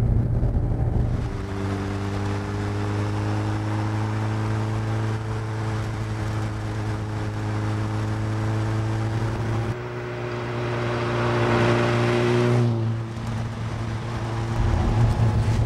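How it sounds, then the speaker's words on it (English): A car engine drones with a steady, harmonic howl that rises as it accelerates, with a brief drop and jolt as the sequential gearbox clunks between gears midway. "you can hear that howl from the engine, and that clunk is a sequential gearbox"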